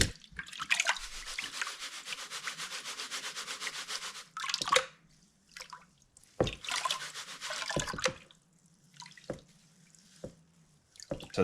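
Black sand and pyrite panned by hand in water: long stretches of gritty swirling and rubbing, broken by sloshes and drips, close and fairly quiet, with pauses between passes and no talking.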